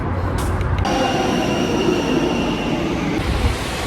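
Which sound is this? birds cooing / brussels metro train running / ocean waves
brussels metro train running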